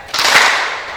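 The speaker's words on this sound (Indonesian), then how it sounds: "Kalau saya bilang tepuk pahanya satu kali." An audience at a New Year talk show slaps their thighs together once, giving a single sharp, crisp smack that decays quickly.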